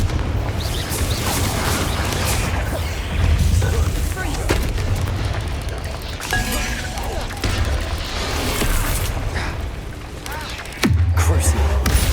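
Repeated heavy booms and crackling blasts from Confringo fire spells in Hogwarts Legacy, loud and dense over a constant low rumble, with a sharp burst near the end.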